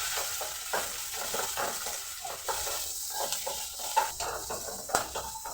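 Onions being sautéed in a pan for honey chilli potato, with a steady sizzle and frying hiss broken by repeated stirring scrapes and clinks of a utensil against the pan, close and continuous.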